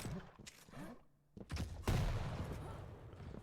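Heavy machine gun fire in a Quake match, arriving as a dense, sustained rattle of shots after a few scattered thuds, fairly loud and close in the mix.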